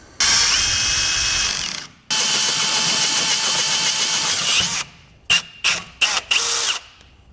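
A power drill runs a bit all the way through the steel frame of a 2022 Jeep while a Roadmaster direct-connect base plate is being fitted. Two long, steady grinding runs are followed by several short bursts, close and loud.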